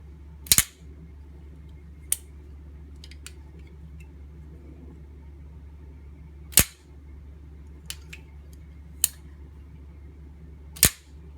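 Protech TR3 automatic knife blade snapping open: several sharp, isolated clicks spaced a few seconds apart over a steady low background hum, with no talking.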